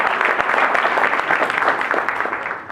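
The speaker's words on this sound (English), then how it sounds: "So ladies and gentlemen, clap it up for Jim Collins, please" Audience applause for a head coach at a sports press conference, steady and sustained, a dense patter of many hands clapping that fades slightly toward the end.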